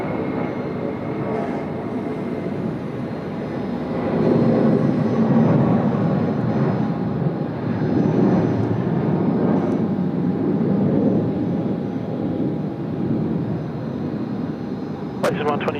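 An Emirates A380 airliner departs Sydney Airport with a broad, sustained jet roar that swells mid-way and holds steady, heard from a distance with people chatting over it.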